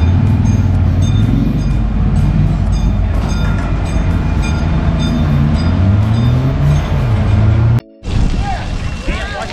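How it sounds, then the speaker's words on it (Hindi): A Canadian Pacific train departs in summer in Saskatchewan, Canada, a loud, steady rumbling roar with rising and falling engine drone and a high whine, continuous throughout until a brief cutoff near the end. "यहाँ पर ट्रेन है कैनेडियन पैसिफिक, तो बस ये ट्रेन अभी छूटने वाली है"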